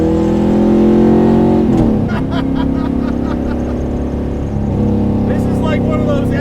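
A 600 HP 1972 Corvette autocross car by Detroit Speed roars loudly from inside the cabin, its engine droning steadily with rising and falling revs, very close and dominant, while voices talk faintly beneath.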